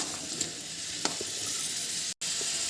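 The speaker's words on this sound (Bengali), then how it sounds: "কিছুক্ষণ ধরে এভাবে যতক্ষণ ভাজা না হয় ততক্ষণ" Pumpkin and soybean fry in a pan with a soft steady sizzle, broken by a few light scrapes and clicks of stirring; quiet and close, with no talking.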